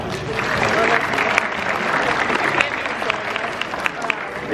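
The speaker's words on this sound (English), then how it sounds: "Clap for that." A convention crowd at a horror fan weekend applauds steadily, dense clapping from many hands close by, with scattered shouts and cheers rising through it.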